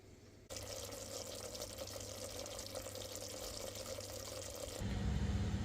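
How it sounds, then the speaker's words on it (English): Water runs steadily and softly from a kitchen tap as chicken is sprinkled with water before going under the grill, a continuous faint stream that grows slightly fuller near the end. "I'm just going to sprinkle it lightly with water and stick it under the grill for a few minutes."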